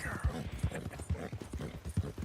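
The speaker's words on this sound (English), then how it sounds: "We are back on Winona, our Turkoman, our war horse" Turkoman war horse hooves in Red Dead Redemption 2, heard as a steady rhythmic clip-clop of about five heavy, close thuds spread evenly over two seconds, with a faint background hiss and no speech.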